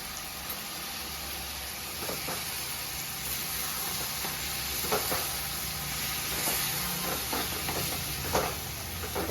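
A broad bean curry with tamarind sauce simmers in a pot, giving a steady soft sizzle and bubbling hiss with occasional brief stirring clicks. No one speaks.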